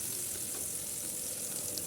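Chili and turmeric paste sizzles steadily in hot frying oil in a pan, a soft, even hiss with no talk over it.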